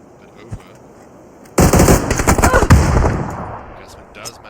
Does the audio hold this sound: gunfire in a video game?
yes